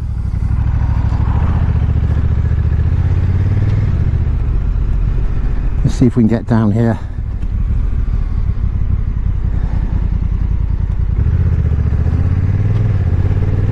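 Honda NT1100 motorcycle riding through traffic, a steady close engine drone with road and wind rumble and a brief clatter midway, while a rider talks over it.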